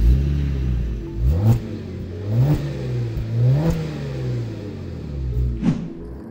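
Kia Stinger GTS in Federation orange starting up, a subdued low engine rumble that rises in several brief revs and settles again, close and fairly loud with no voices.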